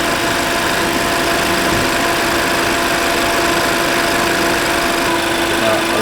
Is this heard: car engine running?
yes